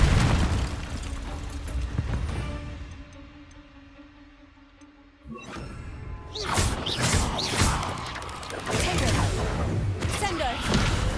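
A Confringo spell explosion in Hogwarts Legacy, a sudden loud blast midway that breaks a quieter ticking stretch, followed by chaotic combat noise and shouted voices.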